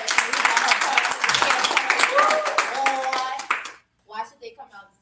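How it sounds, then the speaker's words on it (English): An audience claps at a school play, dense continuous applause for about three and a half seconds that then stops abruptly, with a voice and other voices heard over and after it. "Can we give it a clap for our"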